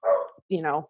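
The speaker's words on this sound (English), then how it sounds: "sorry for the dog That's barking" A dog barks twice indoors, close and fairly loud: a rough first bark and then a higher, more tonal yelp after a brief pause, with no talk over them.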